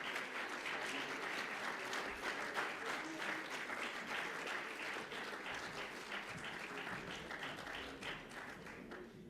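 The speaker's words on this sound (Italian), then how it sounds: "A voi solamente il nostro applauso" Sustained applause from an audience at a leasing convention awards ceremony, many hands clapping together in a dense, even patter that holds steady and eases off slightly toward the end, with no voices over it.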